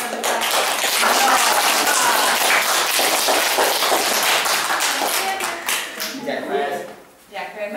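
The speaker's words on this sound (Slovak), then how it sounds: "čo zatleskáme týmto hercom" Children clap together in a steady, dense patter of applause for actors at a children's play, loud and close, thinning out near the end as a voice speaks.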